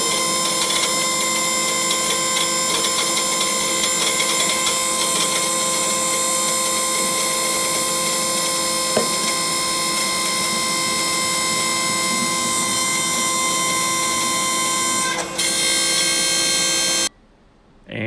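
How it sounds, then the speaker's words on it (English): A hydraulic press forcing a machined mandrel for a brake rotor up against its shoulder, heard as a steady, loud droning hum with strong tonal whine and a brief clunk near the end before it cuts off. "listen in for some sounds of the hydraulic press now."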